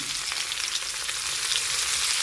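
Eggplant and tomato fry together with salt in a pan for a winter-vegetable fish curry, giving a steady, dense sizzle that runs unbroken throughout with no voices.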